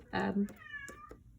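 An unwell domestic cat gives a short, close meow right after a person speaks, with a few soft noises around it.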